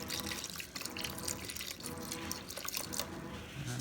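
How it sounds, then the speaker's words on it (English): Water pours into a pot of oxtail soup holding sautéed onions, celery, browned oxtails and beef stock. The stream gurgles and splashes steadily and up close, with a faint low tone near the end and no voices. "I'm going to cover it with water. Some water."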